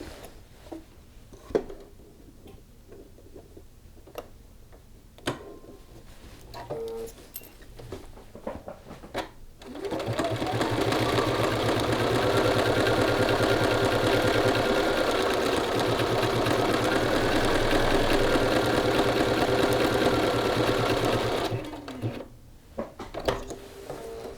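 A sewing machine stitches a horizontal buttonhole on a shirt's button band. It runs as a steady loud whirring hum for about twelve seconds, between quieter handling clicks and taps.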